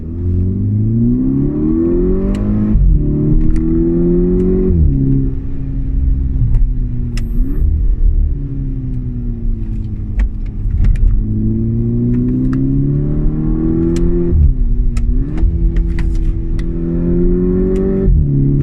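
A Volkswagen Mk6 GTI accelerating hard through the gears, its engine and exhaust rising in loud, close, repeated climbing drones with brief dips at each shift.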